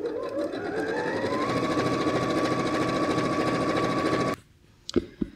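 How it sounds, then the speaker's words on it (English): A sewing machine runs in one fast, continuous whir as it stitches quilt pieces for a tulip block, loud and close, then stops abruptly and leaves a few soft handling clicks. "So I'm just going to sew these down with a scant 5mm seam allowance."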